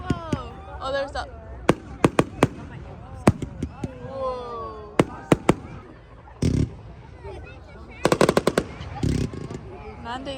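Fireworks on bonfire night, sharp cracks and pops scattered irregularly through the clip, some in quick bursts, alongside excited voices and exclamations.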